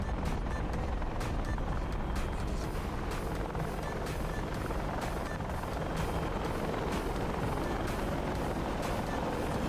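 A helicopter's rotor beats in DCS World, a steady, loud, continuous thumping drone that runs unbroken throughout.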